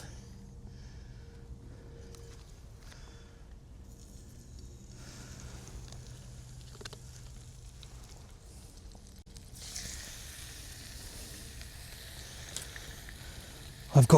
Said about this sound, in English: Right, let's put some bacon on.